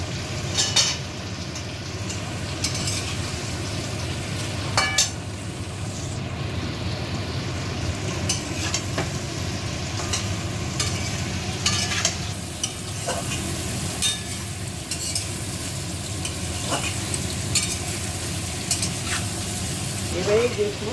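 Jackfruit and fried potato cook in a pan for a Bengali vegetarian curry, a constant low sizzle of frying under repeated scraping and stirring strokes of a spatula against the pan, with occasional clinks of the utensil.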